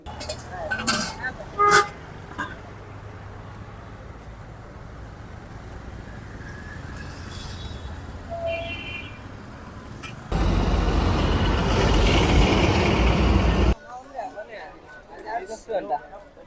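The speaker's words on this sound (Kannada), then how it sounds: "ಸಾವಿರಾರು ಬಸ್ಸು ಪ್ರತಿದಿನ ಓಡಾಡ್ತಾ ಇರುತ್ತೆ" Busy roadside traffic with engines rumbling and a few short horn toots, people talking nearby, then a loud steady engine roar for several seconds.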